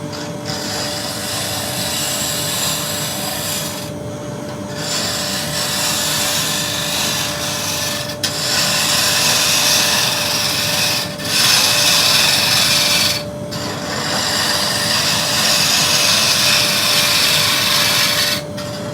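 A wood lathe turns timber for a clock insert while a bowl gouge cuts it, a loud, steady, close-up scraping hiss over a motor hum with a dust extractor running, broken by several brief pauses.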